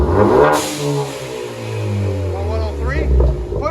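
Close by, a 2014 Ford Focus ST fitted with a Flowmaster Flow FX exhaust rises in a throaty rev, then drops back and rumbles at idle before another short burst of throttle, with a brief hiss near the start.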